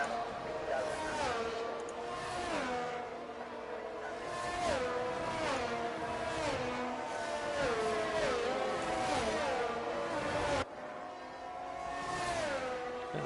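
Formula 1 cars in a racing video game pulling away on a formation lap at Belgium, several engines revving and shifting through gears in rising whines, with a commentator talking over them.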